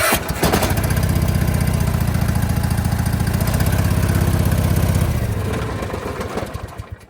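A Husqvarna lawn mower engine, loose on its mount, leaking oil and misfiring on one cylinder, runs loud and lumpy at close range for about five seconds before it sputters and dies away.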